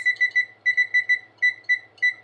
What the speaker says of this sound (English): we're going to go ahead and put the timer on for 20 minutes.